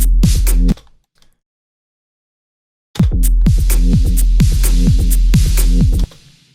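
Harsh, clipped, buzzing percussion with heavy distortion plays, cuts to silence for about two seconds, then returns loud and crunchy before stopping.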